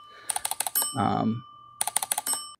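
Two quick bursts of sharp mechanical typing clicks from a solenoid typewriter, separated by a brief low buzzing clunk, close and fairly loud.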